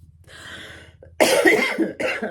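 A harsh, loud cough bursts out close by, followed by a second rough cough after a brief pause.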